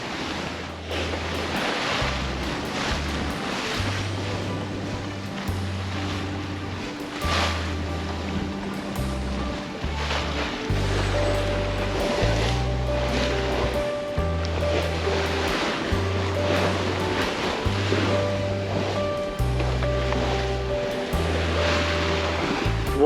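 Ocean waves and wind around a sailing boat on a rough shakedown sail, a steady wash of surf and gusting wind with low rhythmic thumps of hull and water throughout, loud and continuous with no talk.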